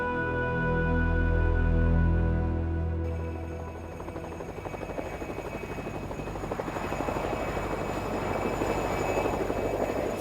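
Engines of a Soviet helicopter roar loudly and continuously, the rotor's rapid chopping pulse building into a dense, steady drone after a brief swell at the start.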